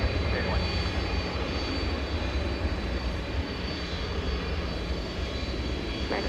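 Jet aircraft on the runway at DFW airport at night, a loud, steady engine roar filling the whole stretch without a break, with no speech heard.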